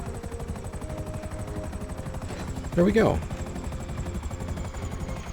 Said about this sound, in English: We just need someplace to put our helicopter in the meantime.